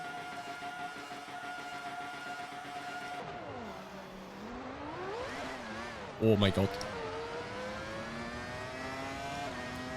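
A 1999 Formula One car's engine revs loudly at a race start in Assetto Corsa, the pitch climbing and dropping through gear changes over other cars, with a brief burst midway and a voice speaking over it.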